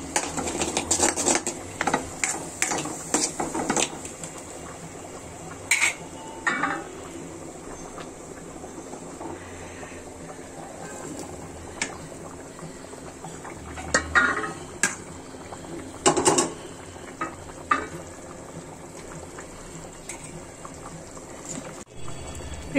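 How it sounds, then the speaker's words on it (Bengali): Potatoes being stirred with free-range desi chicken in a pot, with scattered scrapes and clinks of a spoon against the metal over a steady low sizzle; several louder knocks come in short bursts, and no one talks. "আলুটা নাড়াচাড়া করে দিচ্ছি মাংসের সাথে"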